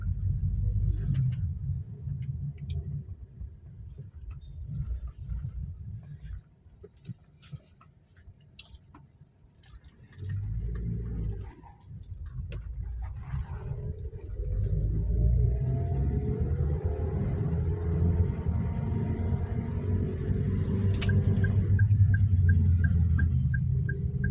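A fuel-injected car engine drones under a low road rumble, then its pitch climbs steadily as the vehicle speeds up in third gear, rising through several surges.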